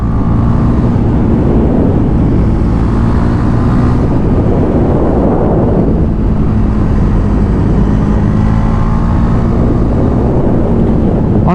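A Husqvarna 401 Svartpilen motorcycle engine pulls hard on a ride up Signal Hill, loud and close, its pitch sweeping up and dropping back between shifts under steady wind roar, with no voices.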